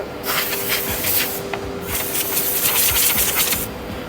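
A boring and insertion machine drills furniture parts in a factory workshop, a loud steady hiss of rushing air and cutting noise with rhythmic surges, close and continuous.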